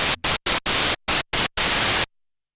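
Korg MS-20 Mini synthesizer noise oscillator sounding in loud broadband hissing bursts, several short stuttered blasts with gaps between them, then a longer sustained rush of static that cuts off abruptly, with no talking.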